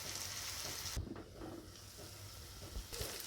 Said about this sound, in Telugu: ఇప్పుడు దీనిపైన ప్లేట్ వేసుకొని మరొక 10 నిమిషాలు బాగా మగ్గనివ్వండి